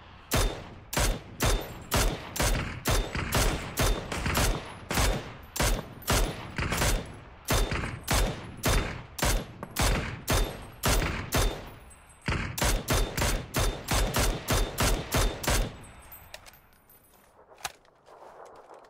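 M4 rifle fire in a video game, with rapid, loud bursts of automatic shots repeating in quick succession for most of the span, then stopping and leaving a faint tail.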